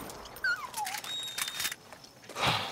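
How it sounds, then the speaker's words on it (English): A dog whimpers in the video game Far Cry 6: a few thin, high whines rise and fall over a steady wash of in-game ambience, with a louder burst of noise near the end. "Run, dog, run. Better run away."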